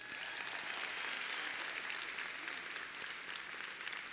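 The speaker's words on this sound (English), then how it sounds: "Yeah, give them a round of applause." A conference audience claps steadily, the applause fairly distant and even in level for a few seconds without voices on top.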